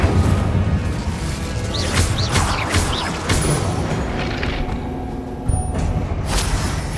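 An Incendio fire spell cast in Hogwarts Legacy, a few whooshing, crackling bursts and impacts over a steady backdrop of game noise, fairly loud with no speech.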